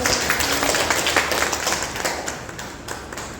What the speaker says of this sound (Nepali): उहाँको लागि एउटा जोरदार ताली